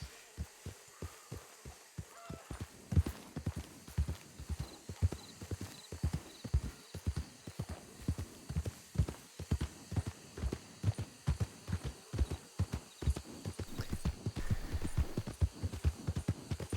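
Horse hooves clip-clop steadily in the video game Red Dead Redemption 2, a rhythmic, fairly close trot that quickens toward the end, with no talking.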